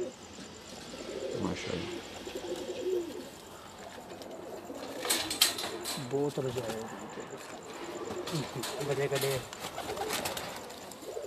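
Pigeons coo softly on a rooftop in low, throaty bursts, with wing flutters and distant chatter, while someone talks over them.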